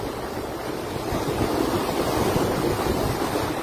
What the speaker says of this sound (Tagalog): Eh, lakas ng agos to, no?